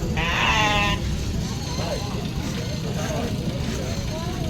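A goat bleats once, loud and wavering, at an outdoor horse and livestock fair in Anthiyur, followed by fainter animal calls under a constant crowd murmur and distant traffic.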